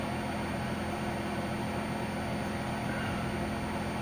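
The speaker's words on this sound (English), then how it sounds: "sorry about the noise. I got my heater on" A room heater runs with a steady, unbroken broadband hiss and faint hum at a constant level, with no other sounds.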